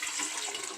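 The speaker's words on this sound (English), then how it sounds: "Pour all that water out." Excess water pours out of a plastic seedling tray in a steady, close splashing stream, a continuous rushing trickle heard alone at moderate volume.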